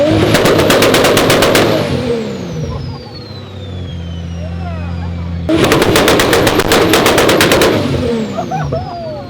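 A 2014 car's two-step launch control firing with flames, a rapid machine-gun burst of loud exhaust pops that drops to a steady engine drone, then returns as a second loud popping burst.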